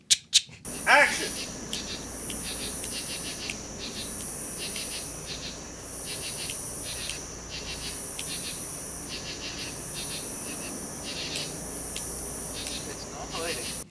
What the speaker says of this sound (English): And also the cicadas in the background. Going wild.